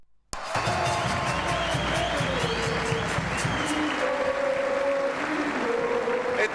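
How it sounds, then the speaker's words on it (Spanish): Large audience at a political event in Córdoba breaking into loud, sustained applause and cheering for the governor, starting abruptly and continuing as a dense roar of clapping with crowd noise. "Gobernador Juan Schiaretti, para quien pido un gran aplauso."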